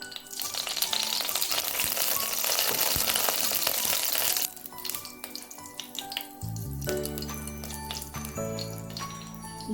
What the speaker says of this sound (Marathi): मी 4 ते 5 लवंग तुपात परतवायचे आपल्याला